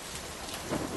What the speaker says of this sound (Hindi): बारिश थमने का नाम ही नहीं ले रही थी।